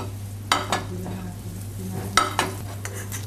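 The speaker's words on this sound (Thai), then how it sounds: "คือต้องใช้ไฟเบาไปเรื่อยๆผัดแค่จนหอมใสครับ" Spatula stirring shallots in a pan over low heat, with soft scrapes and a few sharp clinks against the pan over a faint steady sizzle and a low background hum.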